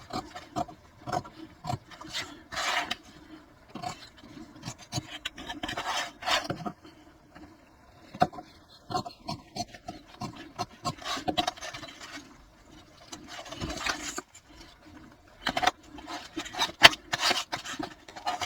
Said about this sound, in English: Now I want to use my heavy duty scissors for this.